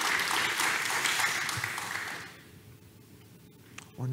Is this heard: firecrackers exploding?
no